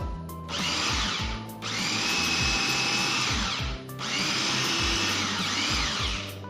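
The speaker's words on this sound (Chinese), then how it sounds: "盖上盖子，再打搅拌机就可以了。" A blender whirs loudly in two long bursts with a short stop between, each starting and ending with a motor spin-up and wind-down, grinding shrimp meat into paste.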